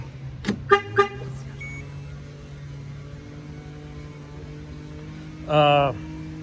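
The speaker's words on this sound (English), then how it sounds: "I'm going to disarm it. I'm going to hit unlock." A 2020 Peterbilt truck's alarm gives a quick burst of three short electronic chirps as it is disarmed and unlocked by remote, then one longer chirp a few seconds later, over a low steady hum.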